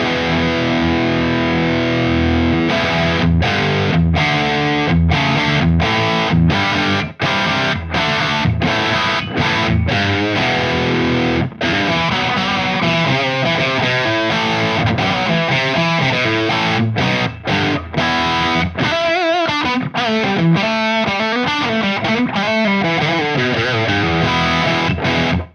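An electric guitar is played through a Synergy Plexi preamp, loud and heavily distorted. It moves through sustained chords, chugging riffs and lead runs with bends, and it plays without a break and with no one talking.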